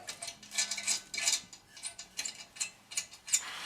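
A ratchet tool loosens screws on a Porsche gearbox during a gearbox oil change, giving quiet, irregular bursts of metallic clicking and ratcheting with no talk.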